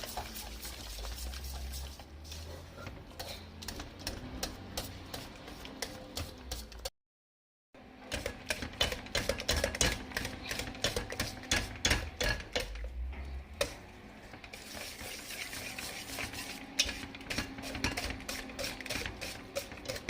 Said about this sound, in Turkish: Şöyle çırpıcıyla ezeceğiz.